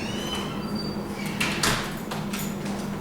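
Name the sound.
door being opened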